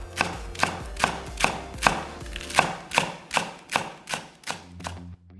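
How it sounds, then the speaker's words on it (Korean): A knife thinly slicing a green onion on a cutting board, with about a dozen crisp, evenly spaced chops close up and no talking. "대파 1개는 얇게 송송 썰어서 담고"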